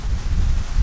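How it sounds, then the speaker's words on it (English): Strong wind buffets the microphone with a steady low roar, loud and continuous throughout. "I'm sorry about the wind, it's really windy."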